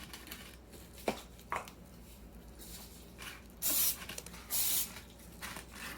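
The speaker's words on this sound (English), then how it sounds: "So I'm going to spray my bowls here." Oil sprayed from a can into bowls for pizza dough, two short hissing bursts close together near the end, after scattered light knocks and handling sounds in a quiet kitchen.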